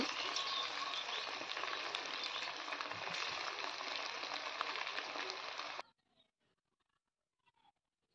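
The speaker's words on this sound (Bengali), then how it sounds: "তো আমি পকোড়াগুলো সব তেলে ছেড়ে দিচ্ছি" Chicken pakoras fry in hot oil with a loud, dense, close sizzle for several seconds before the sound suddenly cuts off, leaving near silence with a few faint clicks.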